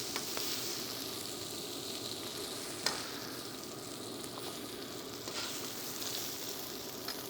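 Shishito peppers blister on a Gaggenau teppanyaki cooktop, giving off a steady, fairly quiet sizzle with a few sharp crackles and pops, and no voices over it.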